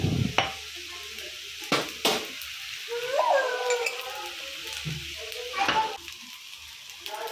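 Egg fried rice is tossed with tomato sauce, soy sauce, vinegar, green chilli sauce and spices in a pan, with a steady low sizzle, scattered sharp spatula knocks and a brief scraping stretch, no talk.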